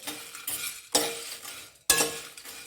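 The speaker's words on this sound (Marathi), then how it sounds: "आता यामध्ये मंद आचेवरच सगळं दालचिनी घालून घेऊया जास्त भाजायचं नाही" Cinnamon and black pepper dry-roasting in a pan over low heat for a mutton or chicken misal masala, with three sharp scraping strokes of a spoon that each trail off into a soft rustle, no talking.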